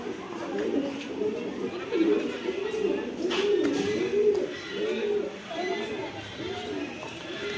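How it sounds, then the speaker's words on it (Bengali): Pigeons coo repeatedly in soft, rolling phrases close by at Hazarduari, with crowd chatter and voices mixed in the background. "এই যে পায়রা"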